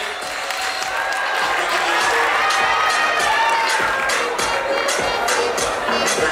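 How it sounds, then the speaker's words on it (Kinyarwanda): A crowd at a Rwandan movie award ceremony applauds and cheers steadily throughout, a dense wash of clapping and shouts with no pause. "Amashyi menshi cyane kumwakire."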